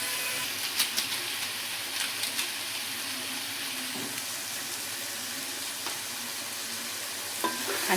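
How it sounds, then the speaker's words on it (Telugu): Meal maker pulao being stirred in a pan, a steady soft sizzle with scraping and clinking of the spoon, brief louder scrapes now and then, no talking. "అన్నీ ఒకసారి బాగా కలుపుకున్నాం"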